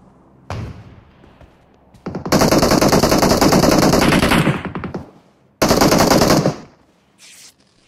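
Loud video-game gunfire rings out in rapid automatic bursts: a short shot, then a long sustained volley, a brief pause and another heavy burst before it trails off.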